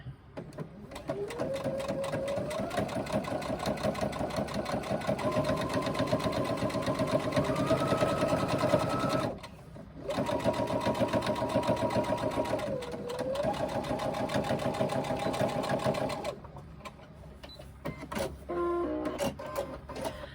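A sewing machine stitches the layered card slots and slip pocket of a crossbody bag, running in long steady whirring bursts with brief pauses between runs, close and continuous with no talking.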